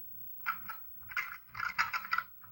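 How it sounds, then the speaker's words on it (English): A Monster Bucks rattle box deer call gives soft clicking, rattling bursts in short grouped clusters, close and fairly quiet. "I use a Monster Bucks rattle box to do little soft rattling, coaxing rattle"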